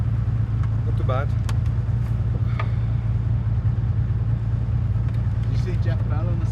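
Race car engine droning steadily and loudly from inside the car on an endurance track run, a constant low hum throughout with brief voices and radio-like chirps over it.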